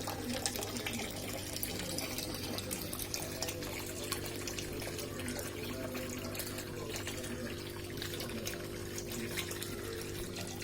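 Water circulates steadily through a koi fish tank during cleaning, a constant close rushing trickle layered over a low, even pump hum, with no voices.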